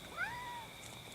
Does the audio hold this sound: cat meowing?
yes